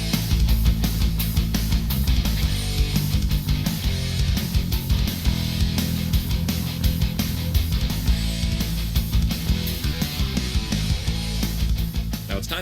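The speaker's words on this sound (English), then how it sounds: "the whole riff all together with some bass added in and with some drums sounds like this" A dense, heavily distorted metal guitar riff drives along with a deep bass line and pounding drums, loud and continuous throughout.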